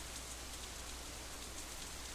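Steady rain falls in a Katawa Shoujo scene, a soft, even hiss of drops pattering on surfaces with no pauses and no voices.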